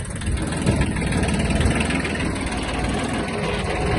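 A Kubota XB-1 Japanese mini tractor engine runs loud and steady with the power take-off engaged in second gear, a continuous close rumble with no speech.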